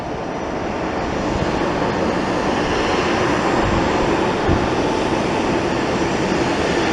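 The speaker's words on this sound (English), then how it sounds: "I think this is our FedEx flight." A FedEx cargo aircraft at an airport gives off a steady, loud broadband engine roar that holds at a constant level throughout, with no speech.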